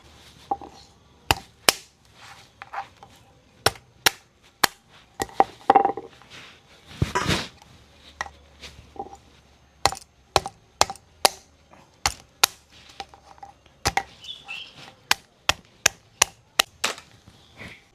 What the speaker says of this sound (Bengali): এই যে দাঁড়াগুলো একটু নোড়া দিয়ে একটু ফাটিয়ে নিতে হবে